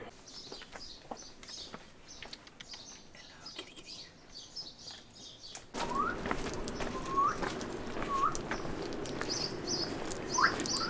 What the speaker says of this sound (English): was someone just whistling at us? Oh, you cheeky bird.